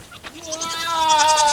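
A big goat lets out a single drawn-out bleat, close and loud, rising and wavering over about a second with no other sound around it.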